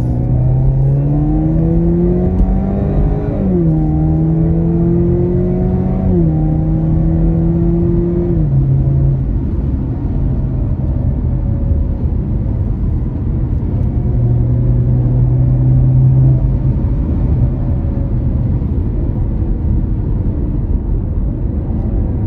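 A 2023 Chevrolet Camaro cruises along with a subdued, steady engine drone and tyre rumble from inside the cabin, the pitch climbing and dropping through a few gear changes, loud and continuous with no talk.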